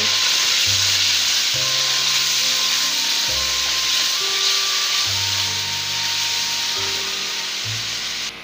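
Spices such as garam masala, chili, black pepper and chicken masala fry in oil for restaurant-style daal chana, giving a loud, steady sizzling hiss over a background of shifting sustained tones.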